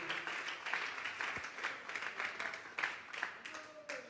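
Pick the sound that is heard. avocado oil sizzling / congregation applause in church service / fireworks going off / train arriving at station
congregation applause in church service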